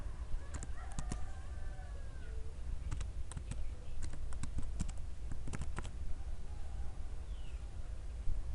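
Typing a command on a computer keyboard: bursts of sharp key clicks in quick clusters over a quiet room hum, with a faint meow-like sound early on.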